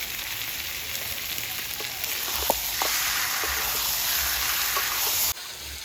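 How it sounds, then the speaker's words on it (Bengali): Whole garlic cloves and chicken sizzle steadily in a hot pan, a continuous loud frying hiss with a few small pops and crackles, with no voices. "এবারে ভালোভাবে কষিয়ে নেব। এখন দিয়ে দিচ্ছি কয়েকটা আস্ত রসুন"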